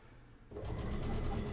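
A sewing machine starts up after a short quiet lead-in and runs steadily while stitching quilt pieces for a graduation quilt, with a rapid even needle rhythm, close and moderately loud, and no voices.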